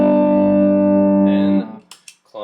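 Guitar played through a Timmy overdrive pedal on its own, a sustained, mildly driven chord ringing loud for over a second before cutting off, followed by a few brief scratchy string noises.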